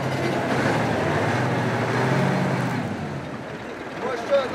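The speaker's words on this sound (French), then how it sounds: "Il patine lui aussi ou quoi?" A vehicle's wheels spin without grip, giving a loud, steady rumbling whine that holds for a few seconds before easing off, while voices talk over it.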